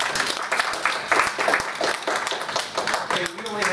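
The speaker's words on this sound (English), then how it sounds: "Let's take a round of applause." An audience applauds at a talk on green jobs and community sustainability, a dense patter of clapping hands with scattered louder claps that carries on steadily throughout.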